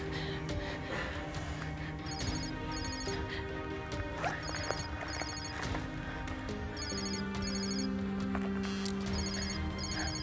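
A telephone rings with an incoming call, its repeated electronic trills faint and spaced apart beneath a steady bed of background music and ambience.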